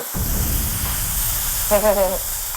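Pork jowl (hangjeongsal), trimmed of its outer fat, sizzling on a grill at a restaurant, a steady soft hiss running throughout under a short tonal sound near the end.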